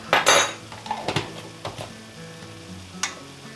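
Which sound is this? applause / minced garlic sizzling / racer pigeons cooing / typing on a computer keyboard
minced garlic sizzling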